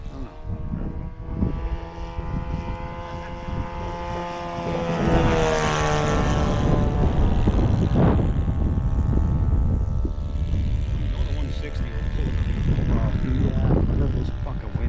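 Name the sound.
RC model airplane engine in flight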